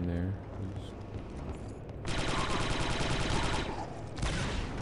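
Blaster fire from Star Wars Republic Commando rattles out in dense, sustained bursts, a rapid stream of shots that swells louder midway, amid game battle noise.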